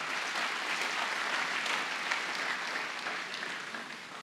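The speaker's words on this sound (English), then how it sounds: "Clap for Jesus Christ." A church congregation applauds steadily in dense, even clapping, sustained for several seconds before cutting off abruptly at the end.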